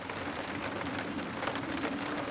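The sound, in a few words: rain falling outside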